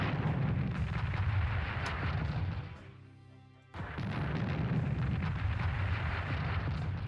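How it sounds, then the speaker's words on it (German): The Gustav artillery gun fires in the Strategic Command WW2 strategy game, a loud sustained roaring blast that briefly drops away and then bursts back in just as heavily. "Sollen wir mal mit unserer Artillerie, mit unserem Gustav mal wieder schießen?"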